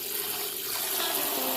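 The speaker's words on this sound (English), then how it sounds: "I'm gonna put some fresh water and then I'm gonna put it back on the stove to boil" Fresh tap water runs and pours steadily into a cooking pot holding salted mackerel, a close, continuous splashing rush with no talk.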